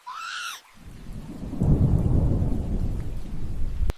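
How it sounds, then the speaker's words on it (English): Loud rolling thunder with steady rain, a deep rumble building after a brief high cry at the start and sustaining through a dense downpour. "Man, it really looks like it's about to rain out here."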